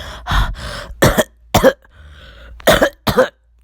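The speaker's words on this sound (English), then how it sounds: "Naruto would then start to cough a little" Several harsh coughs in close succession, loud and near, with a brief pause and soft breathing between two pairs of coughs.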